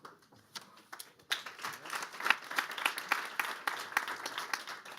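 An audience at a demo day at Google HQ applauds the app developers, starting with a few scattered claps and swelling into a steady round of applause from the crowd.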